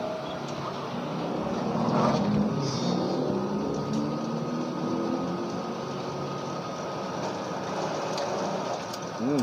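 A Canon iR6000 copier, nearly ten years old, never fully serviced and showing error E000014-000, runs with a loud, steady mechanical motor drone and whirring hum that holds constant from start to finish.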